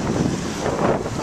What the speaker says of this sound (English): It's just windy, which you can probably hear,